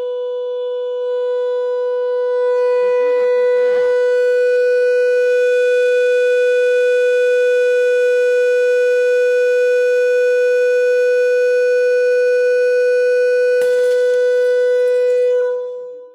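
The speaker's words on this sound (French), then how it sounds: "je vais mettre un son un petit peu plus important dans ce verre, et nous allons pouvoir visualiser les vibrations du verre" A loud, steady pure tone with strong overtones is played into a drinking glass to set it vibrating, holding unbroken for about fifteen seconds with brief faint rattles near the start and end.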